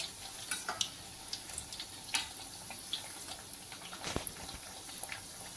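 Thattu murukku deep-fries in oil with a faint, steady bubbling sizzle. Soft clicks and scrapes come as the pieces are turned over, heard close and quiet with no talking.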